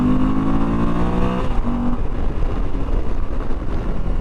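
A 2022 Moto Guzzi V85TT motorcycle engine pulls hard under acceleration, a loud, steady, close engine drone whose pitch rises before a brief shift, then continues with rough wind-blown rumble and no talking.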